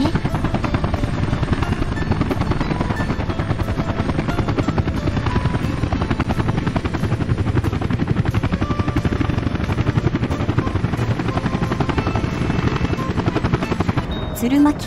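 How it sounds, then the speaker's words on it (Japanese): A steady, loud chopping drone of helicopter rotors from the video game Workers & Resources: Soviet Republic runs throughout with no letup, thick with low thudding and engine whine. "多くのヘリが建設事務所に向かっています。"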